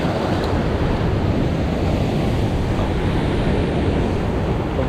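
Ocean waves crash against a rocky shore in a steady, loud roar of surf, with wind buffeting the microphone throughout.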